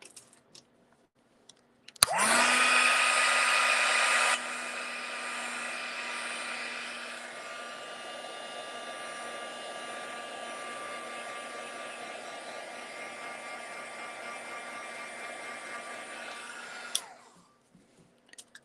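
A hair dryer blows steadily on wet paint on a silhouette painting, switching on with a click, roaring loud for a couple of seconds, then dropping to a lower setting and humming evenly until it clicks off.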